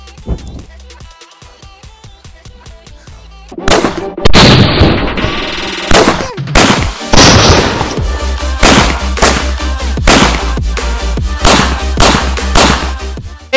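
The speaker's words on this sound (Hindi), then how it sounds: "आग लगाएंगे उसके अंदर ये सारे पटाखे इसके अंदर डालेंगे" A string of firecrackers goes off inside a water tank set alight with petrol. Loud sharp bangs come in rapid irregular bursts with booming echoes, after a few quieter pops at the start.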